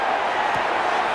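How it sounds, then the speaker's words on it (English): A steady, loud stadium crowd roars without a break in Madden 26, the American football video game, building before a third-and-long play. "The crowd cranking it up another notch before 3rd and long."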